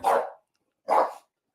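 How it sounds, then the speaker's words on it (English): A dog indoors gives two loud, sharp barks about a second apart, with silence between them. "my daughter's coming home, so my dog's barking"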